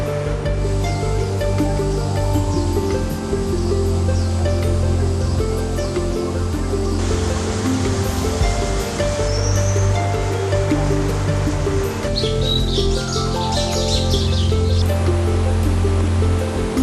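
A fast-flowing mountain river fed by merging streams runs through evergreen broad-leaved forest about 1,000 meters up in the Guanshan wildlife habitat, a loud, continuous rushing roar with faint bird calls above it.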